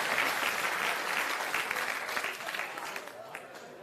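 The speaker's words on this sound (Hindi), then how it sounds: "एक बार जोरदार तालियों से जन स्वराज के अभियान के सूत्रधार का अभिनंदन करें" A crowd at a Jan Suraaj youth club coordinators' meeting in Begusarai claps in steady, dense applause that starts loud and slowly tapers off over a few seconds.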